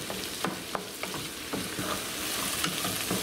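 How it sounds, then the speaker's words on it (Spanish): Cooked nopales (cactus paddles) fry with onion in a pan, giving a steady loud sizzle with scattered scraping stirs and no talking. "estarse aquí friendo los nopalitos"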